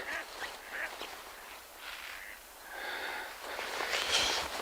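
Ducks quack and take off near a fishing spot on a lake, faint and fairly distant over steady outdoor background noise, with no speech.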